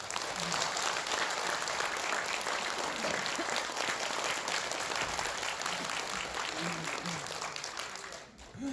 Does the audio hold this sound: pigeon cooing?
no